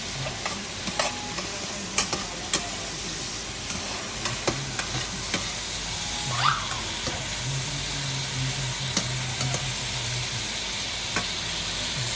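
Leftover shrimp stir-fry in a hot pan, a steady close sizzle with frequent sharp clicks and scrapes of stirring spread through the whole stretch, and no talking.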